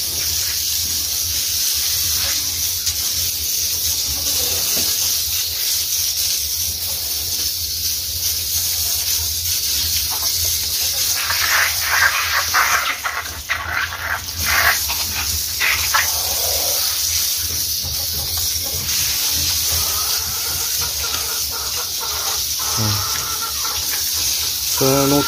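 Steady hissing spray of water bathing chickens runs throughout, with brief bursts of louder splashing and faint background sounds.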